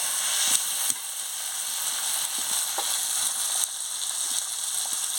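Spice paste fries in a pan with a bright continuous sizzle, while occasional soft scrapes and taps of a stirring utensil sound through it.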